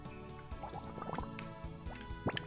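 A watering can pours water in the Harvest Moon: Back to Nature video game, making soft, faint dripping and trickling sounds in a quick, uneven sequence.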